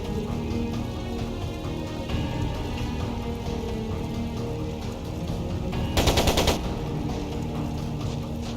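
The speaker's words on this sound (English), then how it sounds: "It sounded like a machine gun." Machine gun fire rattles in The Legend of Heroes: Trails of Cold Steel II as a continuous crackling barrage, with a sharper, louder burst about two-thirds of the way through and no voices.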